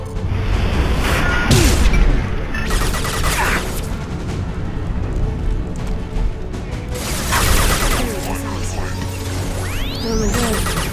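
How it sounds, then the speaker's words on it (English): A flashbang grenade bursts in Mass Effect 2 amid loud gunfire and crashing combat noise, with a whining ring near the end while a player talks over it. "Oh my god, flashbang."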